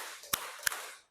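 A pair of crisp hand claps, evenly spaced about a third of a second apart, close and clear over light room noise during a counted clapping drill at a school.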